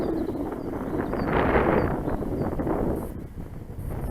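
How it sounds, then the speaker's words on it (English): Strong gusting wind roars across an outdoor field where an RC glider is flown, a loud, steady rumble of buffeting that swells and eases, with no one speaking. "that wind is really messy"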